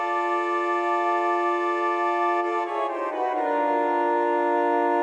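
Pipe organ with a second division coupled in, a rich sustained chord with many ringing overtones that moves to a new harmony midway and holds loud to the end, with no voices.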